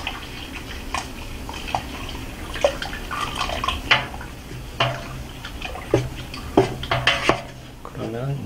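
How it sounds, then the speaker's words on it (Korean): Someone stirs an indigo dye vat with dissolved hydrosulfite, making irregular close clinks and knocks with a little sloshing water, under faint talk. "저어줍니다."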